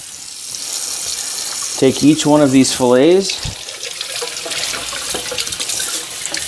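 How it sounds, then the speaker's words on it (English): Tap water runs steadily into a sink while salmon fillets are rinsed of salt, a continuous splashing hiss beneath someone talking close by. "So what we're going to do is run the water,"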